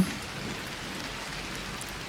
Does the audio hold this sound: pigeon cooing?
no